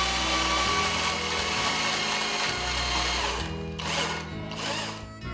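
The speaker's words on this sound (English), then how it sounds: "then we'll run the hole saw up here again" A hole saw with a brazed threaded lead bores into a log for a stair handrail, giving a continuous loud grinding drone that drops briefly in pitch and load midway, then slows and surges again near the end.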